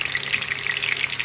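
Small potatoes frying in hot oil in a home kitchen, a steady close hiss and crackle of sizzling that holds evenly through the short moment with no talk.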